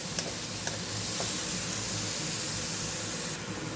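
Sliced onions sauté in a pan for a buttermilk curry, a steady close hiss and sizzle with a few faint clinks, and no talking.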